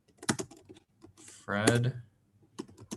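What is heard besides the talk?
typing on a computer keyboard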